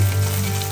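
Small onions frying in coconut oil give a steady dense sizzle, close and continuous through the brief moment, with no talk.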